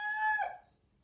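A rooster gives the tail end of a crow, a short, loud, clear call that fades out within half a second into near silence.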